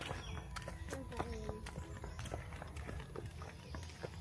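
Horse hooves clip-clopping during a horseback ride at a vacation farm, quick irregular hoof taps close by, with people chatting over them.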